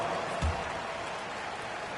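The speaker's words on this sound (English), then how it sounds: "Give them a round of applause." Broad, steady crowd applause in a basketball video game hisses throughout like a dense wash of clapping, with a brief low thump near the start.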